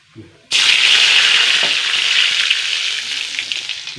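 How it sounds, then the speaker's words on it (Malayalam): Mustard seeds hit hot oil with a sudden loud sizzle that keeps spluttering and crackling steadily, close by, with no talking. "കടുകിട്ട് കൊടുക്കട്ടെ പൊട്ടട്ടെ പൊട്ടട്ടെ"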